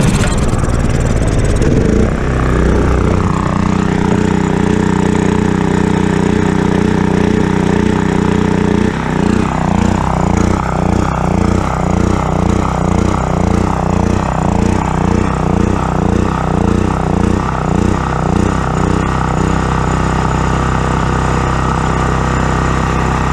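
A Predator 6500 generator engine runs loud and close, a rough mid-pitched chugging drone that shifts into a pulsing, uneven sputter partway through as it begins to run out of gas, with no talk.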